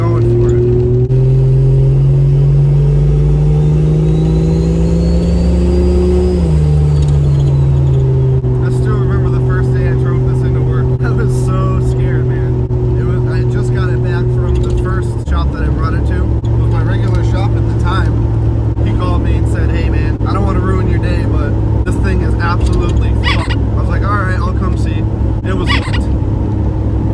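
Jeep with a swapped Toyota 2JZ engine driving steadily, a loud droning hum that shifts pitch at gear changes, with a voice talking over the engine throughout.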